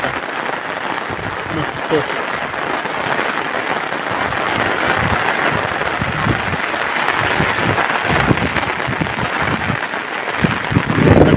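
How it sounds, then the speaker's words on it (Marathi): Heavy rain pours steadily through a forest during a monsoon outing, a dense continuous hiss with scattered drops and splashes, while a voice speaks briefly over it. "मग हा बघा एवढा पाऊस आहे"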